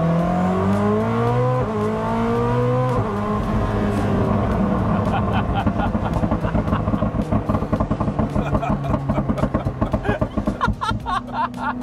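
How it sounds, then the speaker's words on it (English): Koenigsegg Jesko hypercar engine driven around Monterey, a loud sustained roar with shifting revs, breaking into a dense run of rapid overrun pops and crackles toward the end. "The pops and bangs of the overrun turn us into school kids immediately."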